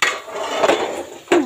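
Boiled meat goes into a pot of fried onions and potatoes, giving a few clattering metal-and-utensil knocks and scrapes, with a sharp clank near the end, close and fairly loud.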